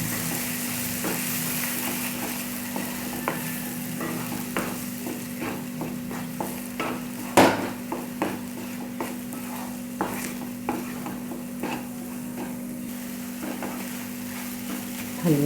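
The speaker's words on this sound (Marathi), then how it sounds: "आपण आता यामध्ये अंडी टाकून घ्यायची." Eggs sizzle in a pan for anda bhurji while a spoon stirs and scrapes them, giving a steady fry with irregular clinks and one sharp knock midway; no one speaks.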